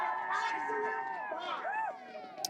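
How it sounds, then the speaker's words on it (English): Crowd noise at the Natural Selection snowboard finals: a steady, loud roar of many voices with rising whoops and cheers. "that crowd making noise for you as you come out of the trees or as you put yourself on top of something"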